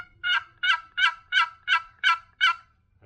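Seven crisp, evenly timed yelps from a handmade Swamp Boys wooden box call, imitating a wild turkey, sounding close and clear against a quiet background.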